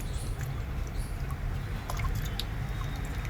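Taro roots being washed by hand in a bowl of muddy water, with faint sloshing and dripping against a low background rumble.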